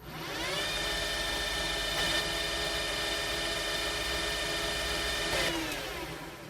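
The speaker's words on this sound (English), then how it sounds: "High speed and using a ruby stone to deburr the thread." A titanium screw thread spinning at high speed on a lathe while a ruby stone deburrs it, giving a steady high-pitched motor whine that holds for several seconds before winding down, with no talking.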